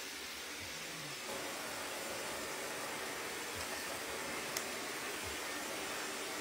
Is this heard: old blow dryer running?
yes